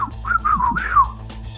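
Shrill, wavering whistling rises and falls in a short tuneless run, loud and close, with a low hum underneath.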